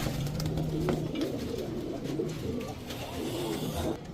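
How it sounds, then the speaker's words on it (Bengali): White racer pigeons coo in a loft, low soft rolling calls repeating close by over a steady background, with no talk. "এই টোটাল হচ্ছে 3 জোড়া কবুতর"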